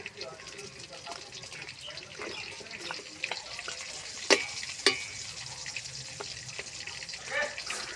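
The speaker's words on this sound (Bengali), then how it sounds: "সম্পূর্ণ মাছ ভাজি করলাম" Whole fish frying in oil in a pan, a steady sizzle with sharper crackles and spatters near the middle, close by, while a person talks intermittently over it.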